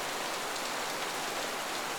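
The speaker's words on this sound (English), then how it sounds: "raindrops ripple across fountains, and the air smells of wet leaves and earth" Steady rain falling on Paris streets and cobblestones, an even, close hiss of drops with no voices.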